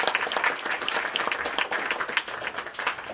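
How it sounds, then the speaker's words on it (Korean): An audience applauds at a memorial gathering for the Gwangju democratic uprising, its dense, lively clapping continuing for about three seconds with no talking. "김원일님께 다시 한번 감사의 박수 부탁드립니다"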